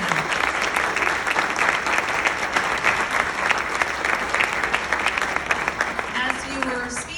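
Dinner guests at a Boston Massacre anniversary banquet give a speaker a round of applause, dense steady clapping that carries on for several seconds before a voice begins speaking at the end.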